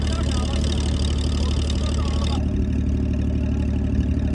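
Boat engine on the Karnaphuli River in Chittagong, a loud steady low drone with constant rumble as the boat pulls away, running throughout without a break.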